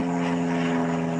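A steady, droning aircraft engine with a strong low hum and constant buzzing overtones, loud and unbroken throughout, as a plane passes over Saint Augustine, Florida.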